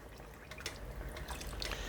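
Water pours steadily into a cooking pot for black-eyed peas, a continuous splashing, gurgling rush, fairly close and unbroken for the whole moment.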